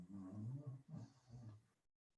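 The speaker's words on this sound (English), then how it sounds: "That's my dog snoring in the background." Low, rumbling snores in a few drawn-out breaths, close by, fading to silence at the end.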